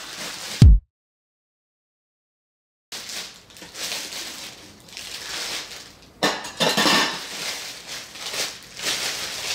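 A Pathfinder cast skillet with lid being unboxed and handled, close rustling of packaging and light metallic clinks and knocks, broken by a short silent gap, with no talking.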